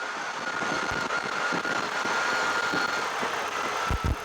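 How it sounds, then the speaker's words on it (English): An ATV engine runs steadily at moderate volume while driving off-road in Pahrump, Nevada, a continuous motor drone with a few bumps and thuds near the end. "ATVs are louder than your average vehicle."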